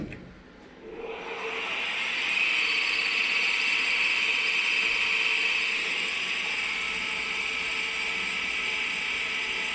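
A crankshaft spins up on a dynamic balancing machine, a steady mechanical whir rising within the first two seconds and then holding an even, continuous whine with a high tonal hum.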